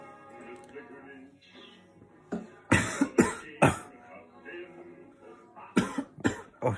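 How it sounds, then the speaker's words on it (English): Several harsh coughs in quick bursts, two clusters separated by a pause, loud and close, with quieter murmuring before them. "it's cough"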